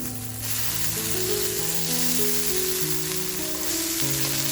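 Bombay duck (bombil) fish frying in a pan, a loud, steady, close sizzle with bright crackle throughout, heard alone.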